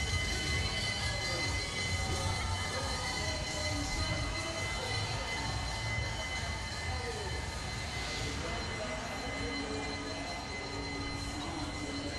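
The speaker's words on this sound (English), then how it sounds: "The famous noise of the trains passing." A steady, loud rumble of NS trains rolling past in Amsterdam, with continuous rail and wheel noise filling the whole stretch and a faint high squeal now and then.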